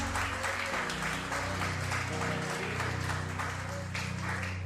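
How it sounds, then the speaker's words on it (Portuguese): A room full of people gives a sustained round of applause for Jesus, a steady wash of clapping that sits beneath a low hum and fills the whole stretch at moderate loudness. "Você pode dar uma salva de palmas para Jesus?"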